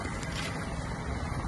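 A Honda engine drives a traditional Kerala houseboat on the Alleppey backwaters, a steady, dense motor drone with water wash running continuously and fairly close throughout.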